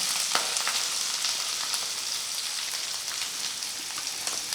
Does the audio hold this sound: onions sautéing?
yes